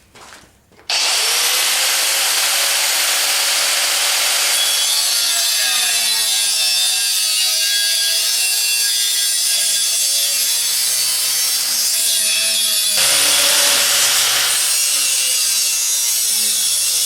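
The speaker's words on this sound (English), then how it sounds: "So I got my cut off wheel and my grinder here." An angle grinder with a cut-off wheel bites into a metal canopy frame during a Kuhn mower rebuild. It starts abruptly and then screams loud and continuous for over fifteen seconds, its pitch wavering as the wheel loads.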